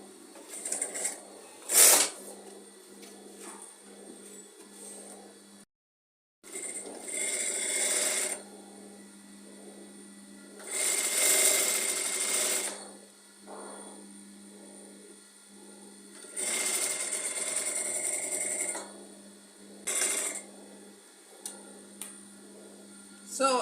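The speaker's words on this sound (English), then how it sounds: "So I'm going to be sewing now." A sewing machine stitches the seams of a turtleneck top in several separate runs of rapid, steady whirring. Quiet pauses with small handling ticks fall between the runs.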